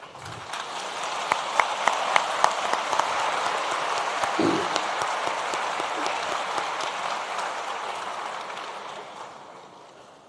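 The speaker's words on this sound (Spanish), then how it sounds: "Esa cascada de aplausos me hacen sentir muy mal." Applause from a seminar audience on international law, a dense steady patter of many hands that fills the whole stretch at moderate level and tapers slightly toward the end, with no speech over it.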